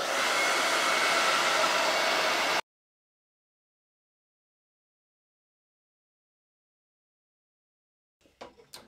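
Hair dryer blowing on a painted decor board, a loud steady whoosh for a few seconds that cuts off abruptly, followed by silence and faint handling noises.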